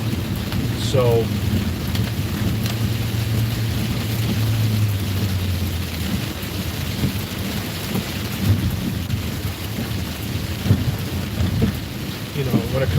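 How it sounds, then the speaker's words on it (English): Heavy rain pours down steadily in a thunderstorm, with a loud continuous hiss and low rumbling thunder, close and constant, and someone speaks briefly. "when it comes down in buckets like it is, oh, this is going to be really good for us. We need this rain"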